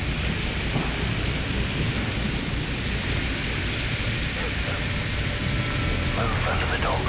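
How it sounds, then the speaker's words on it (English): Heavy rain pours steadily with low rumbling thunder beneath it in a storm in the video game Modern Warfare 3, a dense continuous roar filling the whole stretch. "The storm will keep us quiet."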